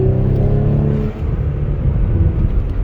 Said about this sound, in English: I'm driving Triptronic right now, so I'm gonna downshift it. And the pops are actually much louder.